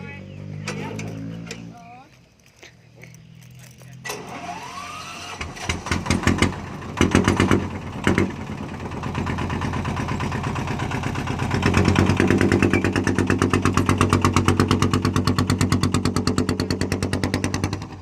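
A Thai E-tan farm vehicle engine idles, is revved in uneven bursts, then settles into a steady throbbing chug as the vehicle pulls away, close and fairly loud, with people talking over it.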